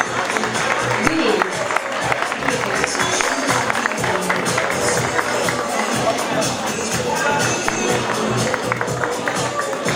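Audience applause fills a swimwear fashion show, a dense, steady wash of clapping from a sizeable crowd with murmuring voices mixed in, holding at an even level throughout.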